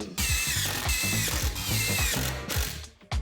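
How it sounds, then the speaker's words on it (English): A power driver drives screws with chisel-tip points into plywood bookshelf corners, giving a loud, close ratcheting whir with rhythmic clicking pulses that runs nearly continuously before dropping off at the end. "special chisel tip that pre-drills the holes while driving the screws to prevent splitting"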